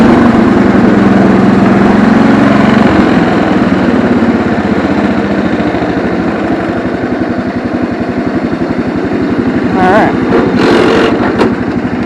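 A Cub Cadet 1200 garden tractor's small engine, cold-blooded after a spring service, runs with a loud, close, rhythmic chugging idle that shifts pitch after a few seconds. Brief voices cut in near the end.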